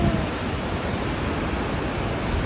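Takakkaw Falls, one of the highest waterfalls in British Columbia, Canada, roars as a dense, constant rush of falling water, steady and loud throughout with no breaks.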